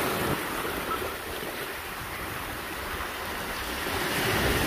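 Surf washes steadily on Anse-Couleuvre beach in Martinique, a soft continuous roar mixed with light wind buffeting, even in level throughout and with no voices.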